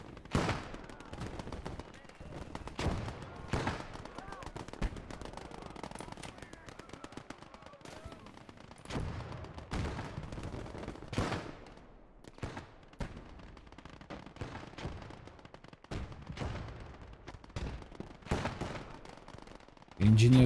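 Bursts of rapid gunfire crackle repeatedly over a busy soundscape in the game Call to Arms: Gates of Hell Ostfront, some volleys close and sharp, others distant, with occasional voices in between.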